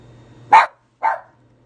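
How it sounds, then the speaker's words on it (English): A dog barks twice in quick succession, close and fairly loud, with quiet between the barks. "so he can stop barking"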